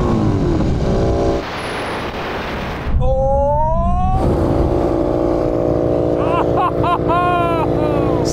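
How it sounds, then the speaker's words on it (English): A car brakes hard to a full emergency stop from 100 mph during a brake test: steady loud road and engine roar, a rising squeal-like tone midway and tonal whines later, with a person talking over it. "Okay, now we're going to have a brake test from 100 miles an hour."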